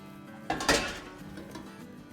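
A serving spoon or cutlery clinks against a pot while mac and cheese is dished out in a home kitchen, giving a couple of close metallic knocks and a short scrape, with no talking.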